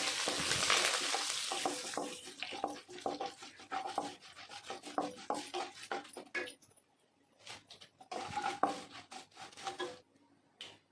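Spice tempering crackles and spits in hot oil for a coriander-mint chutney, with dense popping that thins briefly midway, then returns in close, lively bursts.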